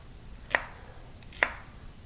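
A knife chops through onions on a cutting board twice, two sharp, distinct thunks about a second apart in an otherwise quiet kitchen.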